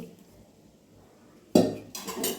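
Roasted puffed rice tipped into a pan with fenugreek and mint powder. After near-silence comes a sudden, loud rattling clatter of the grains hitting metal, then a second, softer rustling pour close by.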